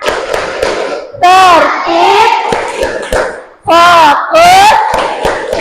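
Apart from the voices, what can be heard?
children doing a rhythmic class clap (tepuk kelas 5)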